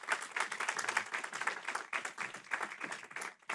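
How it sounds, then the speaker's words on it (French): An audience at a conference applauds steadily, a dense wash of clapping from many hands that continues without a break and fades near the end. "Sous vos applaudissements, mesdames et messieurs,"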